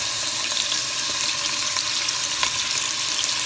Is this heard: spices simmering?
yes